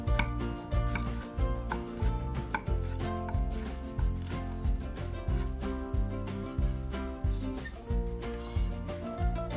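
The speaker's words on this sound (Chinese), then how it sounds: "欧芹切碎， 番茄切小丁。" Knife chopping parsley and dicing tomato on a board, steady fast rhythmic cuts close by, repeated throughout with a musical tone running underneath.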